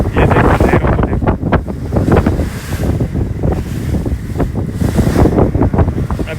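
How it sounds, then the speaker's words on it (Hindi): Sea waves slap and wash against a boat on the crossing from Pattaya to Koh Larn, a continuous loud churn of splashes heavily buffeted by wind on the microphone. "ये देखो लहरों को देखो।"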